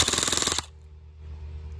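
A Specna Arms EDGE SA-E20 airsoft gun fires a fast, close burst of rapid evenly spaced shots that stops abruptly after about half a second, leaving a quiet room hum.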